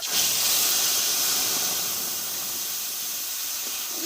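Spice paste hits hot oil in a pan already holding bay leaves, cumin seeds and asafoetida for a vegetarian jackfruit curry, giving a loud, steady broadband sizzle that holds throughout, easing only slightly toward the end.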